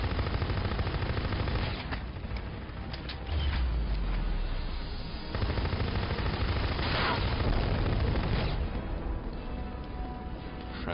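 Sustained gunfire from shooting an enemy in a video game, rapid automatic bursts running nearly continuously, loud and dense, with brief pauses and shifts in intensity.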